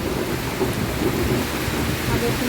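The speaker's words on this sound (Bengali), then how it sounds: "বৃষ্টি খুব বেশি হচ্ছে আজকে" A heavy downpour with thunder on a farm, a dense continuous hiss of rain with low rumbling underneath, steady and fairly loud throughout with no talking.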